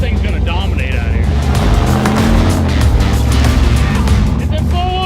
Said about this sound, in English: It's in four-wheel drive. We spun both the front tires instantly.